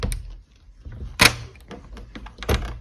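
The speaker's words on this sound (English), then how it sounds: "Very secure door system here." A heavy, secure residential door being unlocked and opened, with a sharp metallic clack near the middle and another thunk toward the end, close and fairly loud amid faint handling noises.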